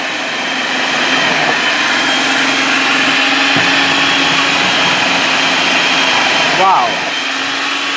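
A robot food processor runs continuously and loudly while processing potatoes, a steady motor whir with a mechanical hum underneath, as someone speaks briefly over it.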